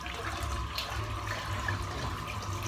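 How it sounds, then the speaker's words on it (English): A bowl of water full of shaved hair is emptied into a sink, giving a continuous splashing, gurgling pour at moderate level for a few seconds, with no talk. "I'm just going to empty this bowl of water out because it's absolutely chockers full of hair."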